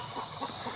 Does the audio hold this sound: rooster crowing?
yes